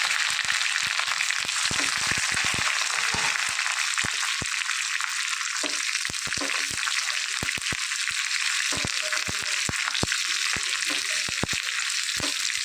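Shallots, green chilli and curry leaves fry in hot oil in a pan for a Kerala-style pumpkin curry. The sizzle is loud and steady, with occasional sharp clicks of stirring, and there is no talk.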